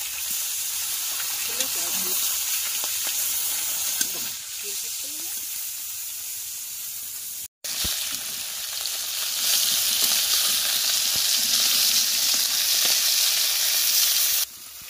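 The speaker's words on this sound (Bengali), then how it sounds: "এই যে আগে মাথাগুলো ভাজা হয়ে গেছে," Continuous sizzling of snakehead (shol) fish heads frying in oil, with faint voices and occasional clinks underneath, a brief dropout midway.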